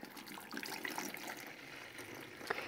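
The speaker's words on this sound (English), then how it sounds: "I'm just going to lay this cheesecloth over the mesh strainer, and we are going to pour." Water kefir pours steadily through cheesecloth laid over a mesh strainer, a continuous close splashing trickle at a slow, even pace with a brief louder splash near the end.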